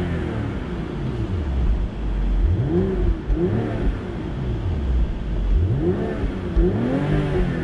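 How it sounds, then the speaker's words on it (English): A 2022 BMW M440i Convertible engine revving, with repeated rising and falling sweeps of engine pitch, several blips in succession, loud and close with no talking. "Do some revving here."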